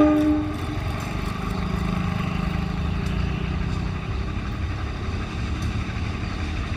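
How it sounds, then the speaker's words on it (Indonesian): The Garut–Cibatuan local train pulls into Pasir Jengkol station, a steady low engine rumble with a brief horn note at the start, heard fairly close with no talking. "Kereta api lokal Garut Cibatuan dari stasiun Garut."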